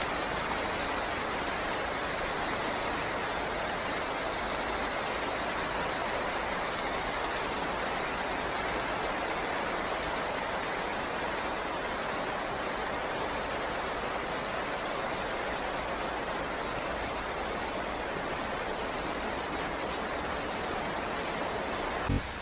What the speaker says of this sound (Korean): 오늘 스프링클러로 물 주고 있습니다